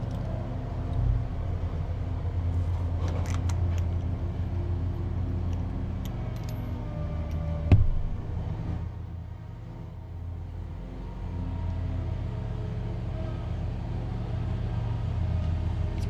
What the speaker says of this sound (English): so I apologize for the lawnmower sound